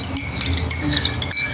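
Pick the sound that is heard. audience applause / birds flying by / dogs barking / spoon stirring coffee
spoon stirring coffee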